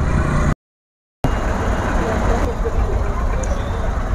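Dense city road traffic in a jam during Dussehra, a steady broadband rumble of idling cars, buses and tempos close by, briefly cut out near the start, with background chatter mixed in.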